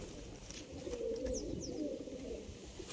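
Pigeons, among them clipped-feather and red-headed birds, coo in low, overlapping rolling calls close by, a steady chorus that runs through without pause and with no talk over it.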